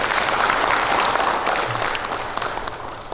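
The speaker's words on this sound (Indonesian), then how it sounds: "Aplaus Bapak Ibu sekalian." An audience at a court ceremony applauds, a dense, loud wash of clapping from many hands that holds steady and then slowly tapers off.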